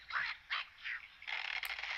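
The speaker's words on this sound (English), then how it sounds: "Let's show you my Angry Birds skills on level 3 or 2 or whatever it was." Angry Birds game sounds from a Nokia Lumia 800 phone: several short bird-like squawks and chirps in bursts, followed by a longer continuous run of cartoonish bird cries, moderately loud with no talking.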